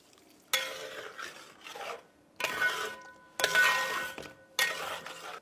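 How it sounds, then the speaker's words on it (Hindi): A spoon stirs melted butter and deggi chili into chicken changezi in a pan, four separate bursts of scraping and rubbing with faint clinks, close by with short pauses between and no talking. "इसमें हम मिलाएंगे आधा चम्मच देगी मिर्च, और इसे हम मिला देंगे चिकन में"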